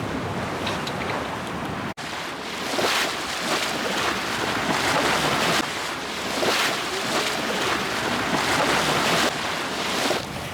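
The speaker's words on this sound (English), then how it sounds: "The wind picked up at last and we're heading towards Fowey at a good rate of knots." Steady wind buffeting and surging waves aboard a sailboat heading toward Fowey at speed, loud and continuous with rolling swells of wash and microphone wind roar, no talking.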